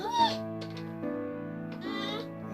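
A cat meows indoors beside a toddler playing with a Fisher-Price shape-sorter toy. There are several drawn-out, wavering meows at close range, with a few brief quieter gaps between them.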